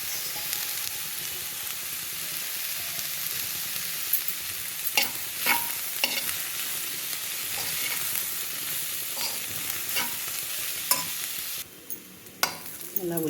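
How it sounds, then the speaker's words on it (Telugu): Onion pieces and ginger paste frying in oil in a pan, a steady close sizzle with repeated scraping stir strokes, and a brief dip near the end. "మనకు ఆయిల్ కూడా సరిపోకపోతే మధ్యలో 1 స్పూన్ అలా ఆయిల్ వేసుకుంటూ వేగిందాము"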